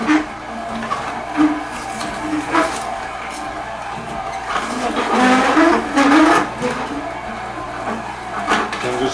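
A VSJ843 slow juicer crushing hard apples with its auger, a low continuous motor hum with repeated grinding and cracking bursts as pieces are pushed in, close and fairly loud.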